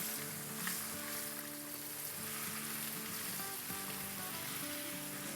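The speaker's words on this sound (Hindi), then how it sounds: "चलें इसको थोड़ा सा सौटे करते हैं" Ginger and garlic paste sautéing in a pan for an okra bhindi sabzi, a steady soft sizzle with faint scraping, continuous and fairly quiet throughout.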